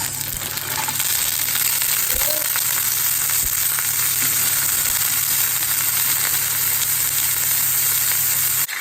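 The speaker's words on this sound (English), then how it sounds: "some warmed olive oil, and I have some frozen onions" Frozen onions frying in warmed olive oil in a pot, alongside spring onions, give a loud, steady sizzle that runs unbroken throughout, with a few faint clinks of a utensil near the start.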